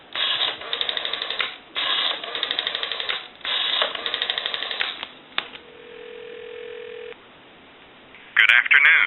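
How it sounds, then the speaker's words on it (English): A Western Electric 202 rotary desk telephone gives a steady dial tone for about a second and a half, following stretches of voices and mechanical clatter and ending in a sharp click. "So we'll go ahead and give you some dial tone."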